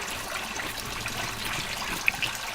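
Water running out of a surangam, a hand-dug tunnel, under its own flow without any pump: a soft, steady watery hiss and gurgle, fairly close, with a couple of faint bright drips near the end.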